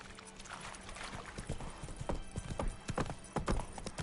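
Hooves of Roach, the horse from The Witcher 3 video game, clip-clopping in a steady trotting rhythm that grows louder over time, with no talking.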